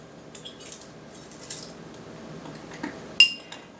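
A spoon stirs dry chili seasoning spices together in a bowl, giving a handful of light, scattered metallic clinks. A sharper clink comes near the end against a quiet background.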